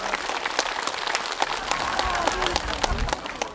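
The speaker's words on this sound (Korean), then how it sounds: "박수 한번 쳐주세요." A crowd claps at a temple festival marking a founding anniversary on Dano, with steady, dense applause building through the clip and a few voices mixed in.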